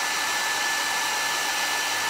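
A hair dryer runs steadily at a constant pitch, blowing close and loud to dry paint on a decorative wooden plaque, with no voices.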